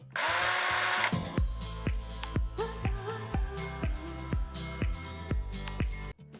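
A Black & Decker MultiEvo cordless drill-driver runs with a loud, steady whir for about a second, then fires off a rapid series of short, punchy bursts with sharp clicks, all close and without talk.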